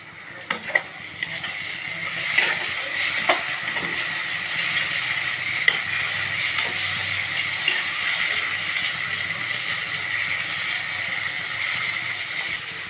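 Spice masala sizzles steadily in a pan after water is added, a continuous loud frying hiss with scattered pops and stirring clinks, no voices.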